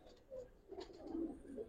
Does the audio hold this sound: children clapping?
no